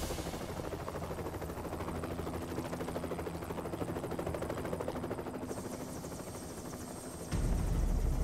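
Steady rotor chop and engine whine of a Bell 407 helicopter in flight, loud and continuous, with the engine pitch rising near the end.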